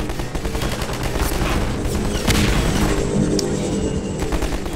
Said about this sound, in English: The gun is automatic.